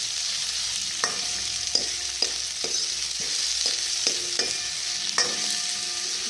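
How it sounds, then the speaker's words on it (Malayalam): Onion, ginger, garlic and curry leaves sautéing in hot oil for a jackfruit curry, a dense, continuous sizzle punctuated by regular scraping taps of a spatula about every half second, close up with no voices. "നല്ലവണ്ണം വഴറ്റി ഫ്രൈ ആക്കുക സവാള ഇഞ്ചി വെളുത്തുള്ളി കറിവേപ്പിലൊക്കെ ഇട്ട് നല്ല വഴറ്റ്"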